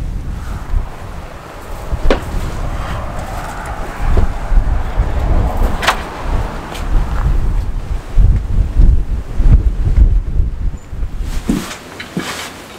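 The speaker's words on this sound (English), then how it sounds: "the wind's got up" Strong wind gusts at a narrowboat mooring, roaring and buffeting the microphone with a heavy, uneven rumble that rises and falls throughout, with no speech.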